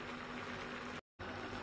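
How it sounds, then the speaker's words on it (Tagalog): A pot of squash and shrimp stew simmers with a steady, faint bubbling hiss, broken by one short moment of silence. "Kumukulo na siya."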